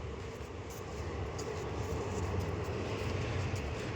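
A train crosses a railway line overhead while someone wades through a drain beneath it, producing a steady, broad low rumble that swells slightly and holds without talk.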